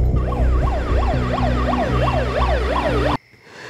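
A loud, close wailing siren sweeping rapidly up and down in a repeating yelp, then cutting off abruptly near the end.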